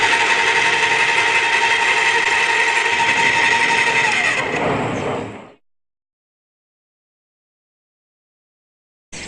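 A Graco Nova 390 airless paint sprayer runs with a loud, steady mechanical motor whir and buzz for several seconds, winds down and cuts off, leaving silence.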